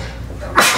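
A single short sneeze bursts out at the end of a brief moment in a meeting room, close to the microphone.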